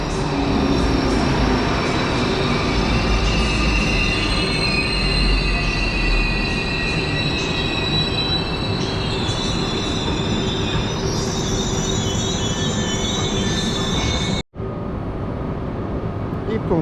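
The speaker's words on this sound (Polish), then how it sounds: "Wjeżdża pociąg Intercity Pobrzeże." An Intercity Pobrzeże train pulls into Warszawa Centralna station, a loud, continuous rumble of wheels with sustained high squealing tones from the rails, briefly dropping out near the end before resuming.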